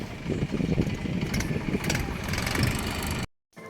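A tractor engine idles nearby with a low, even rumble, cutting out briefly near the end before resuming.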